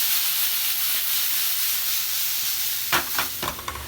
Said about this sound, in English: So now I've got my onions just kind of gently simmering away